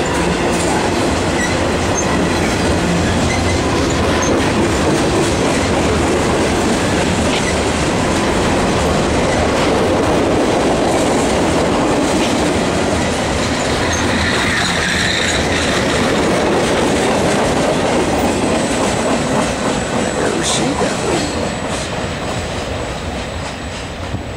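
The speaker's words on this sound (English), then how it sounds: "Pretty big train today." A long Norfolk Southern freight train hauled by three SD40 locomotives, throttles notched up, rumbles past close by, wheels clacking steadily over the rails with occasional squeals, loud and continuous throughout, near Charlotte.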